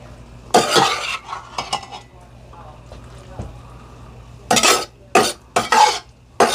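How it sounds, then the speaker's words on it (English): A ladle scrapes and clatters against a pot while arancini filling with butter is spooned in, giving loud, close metallic knocks and scrapes in uneven bursts with quieter pauses between. "we're just going to ladle the filling in here"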